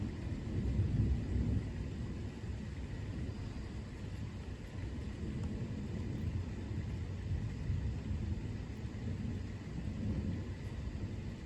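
Low thunder rolls continuously during a severe thunderstorm with nonstop lightning, a faint, distant, steady rumble lasting over ten seconds with no voices.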